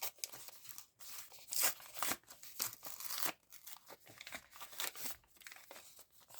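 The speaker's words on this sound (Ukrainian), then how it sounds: "ми відкриваємо пакетик із зачіскою" Crinkly plastic rustling and tearing, close up, in irregular bursts as a toy hairstyle packet is pulled open, with no talking.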